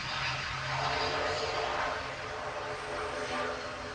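A Ryanair Boeing 737 MAX 8 jet in from Alicante gives off a steady broad engine roar at moderate distance, holding fairly even over four seconds with no clear voices.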